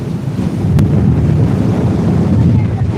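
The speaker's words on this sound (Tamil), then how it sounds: "பின்னாடி எந்த அளவு காற்று வரக்குதுன்னு பார்த்துக்கோங்க" Strong gusty wind buffets the microphone on a fishing boat at sea off Thoothukudi, over rushing water and surf, a steady loud roar with a brief click partway through.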